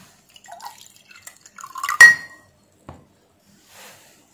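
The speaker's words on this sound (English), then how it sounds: "Now I will drain water." Water draining from a container in a pump-control setup, heard as a few scattered drips and light clinks, then a brief louder splash and gurgle near the middle, followed by a couple of faint drips and quiet.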